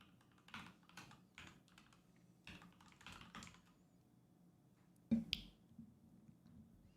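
Typing on a Keychron Q11 keyboard during a live coding session: quiet, irregular clusters of close key clicks with brief pauses, and one sharper, louder burst of keystrokes near the end.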